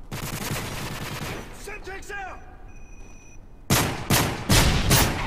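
Several loud, close SMG bursts from a video game firefight, rapid rattling volleys at the start and again near the end, separated by a quieter gap with a brief voice.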